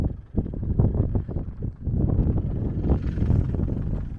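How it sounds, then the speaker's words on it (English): Strong wind buffeting the microphone in continuous low roaring gusts, loud and close, with no other sounds standing out, outdoors on the Canning Stock Route in Australia. "Might be a bit windy here."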